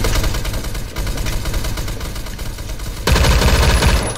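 Rapid automatic gunfire from the Beowulf ECR rifle in the Roblox shooter Phantom Forces, a dense continuous burst of shots that grows louder and heavier near the end, with no talking.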